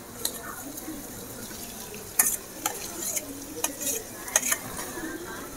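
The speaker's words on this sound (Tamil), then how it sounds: "இப்போ நல்லா இந்த மசாலாவோட மூளையை சேர்த்து நல்லா கிண்டி விட்டுக்கலாம்." Mutton brain is stirred into a sizzling masala in a pan, with a spoon scraping and clacking in irregular strokes over a soft, continuous frying hiss, close and fairly quiet.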